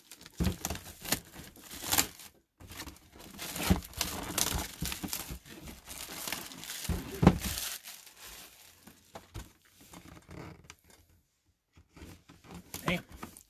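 Stubborn packing tape tugged and peeled from a package in crackly, crinkling bursts, close and uneven with brief pauses, while people talk over it.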